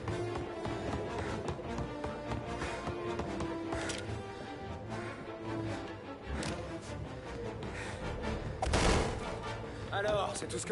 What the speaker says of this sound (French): Pour moi, je vais tirer une balle.